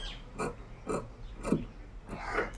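Scissors cut through blouse fabric in four or five rasping, crunchy snips at a steady pace, close and moderately quiet, with no voice.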